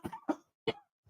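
Three short, harsh coughs with brief pauses between them, close to the microphone, followed by a faint breath at the end.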